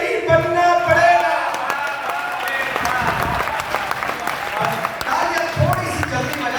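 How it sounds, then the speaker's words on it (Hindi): A crowd claps for a poet at a Hindi kavi sammelan in Saharanpur, a sustained wash of applause with bursts of cheering, while voices and a speaker talk over it throughout. "तालियां थोड़ी सी जल्दी बजा दी आपने"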